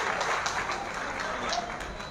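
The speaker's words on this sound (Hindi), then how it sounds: "जोरदार तालियां बजाए" A crowd at an outdoor public political meeting claps together, a brief burst of scattered applause at moderate volume with some background murmur.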